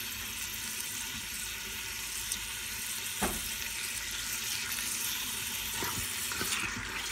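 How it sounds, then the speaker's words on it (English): Chicken thighs browning in an Instant Pot give a steady, close sizzle of frying, with a few sharp clicks and scrapes over the hiss and no talking. "while that's browning up"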